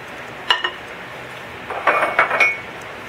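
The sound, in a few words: mixing egg yolk into butter and brown sugar in a bowl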